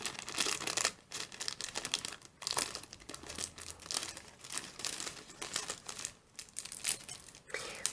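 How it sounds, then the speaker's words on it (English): A plastic produce-section bag crinkling and rustling continuously as scissors cut through it, with brief snipping bursts and pauses, faint and close with no voices. "this is just one of the bags that you can find in the produce section, and this is just the top of the bag. So we're going to cut this open."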